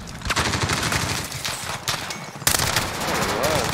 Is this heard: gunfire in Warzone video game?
yes